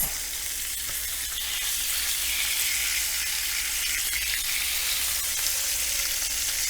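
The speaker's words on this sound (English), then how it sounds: "So I'm going to put this on the grill and we're going to cook it for 25 minutes." Pork tenderloin sizzles on a tabletop grill in a steady, even hiss that holds at moderate loudness with no break and no voices.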